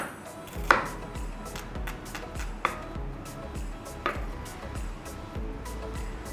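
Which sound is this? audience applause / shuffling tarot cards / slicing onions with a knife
slicing onions with a knife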